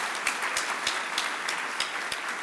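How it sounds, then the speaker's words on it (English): Steady, dense applause from the audience at a community foundation's 35th anniversary celebration, a bright sustained clatter of many hands with soft regular thumps beneath. "a round of applause to everything that OCCF has done"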